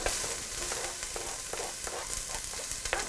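Onions dropped into about a tablespoon of olive oil in a pan preheated over medium to high heat, sizzling and frying steadily with crackling pops, close and continuous with no talk.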